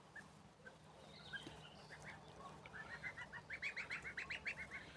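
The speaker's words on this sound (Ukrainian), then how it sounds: "Ось таких чудесних дев'ять гусенят." Soft peeping calls from nine goslings come in a quick repeated series, growing busier toward the end over a quiet outdoor background.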